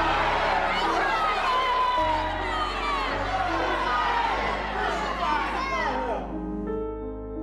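Crowd shouting in a dramatized Bible reading of Pilate's trial of Jesus, a dense roar of many voices yelling together, loud and sustained, easing off near the end.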